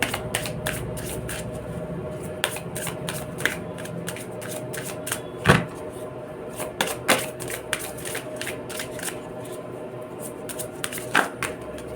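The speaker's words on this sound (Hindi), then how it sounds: "अरे यार कार्ड्स एक साथ ऐसे करके गिर रहे हैं" Tarot cards being shuffled by hand up close, a rapid run of crisp flicks and riffles with a few louder slaps as cards fall together, continuing steadily throughout.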